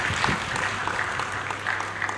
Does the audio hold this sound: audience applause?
yes